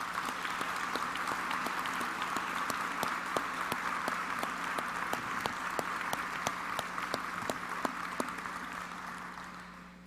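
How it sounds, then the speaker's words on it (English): Luncheon guests applaud school award winners with sustained, even clapping, heard at moderate distance with a few sharper individual claps standing out over a low steady hum. "Would you please join me in a round of applause?"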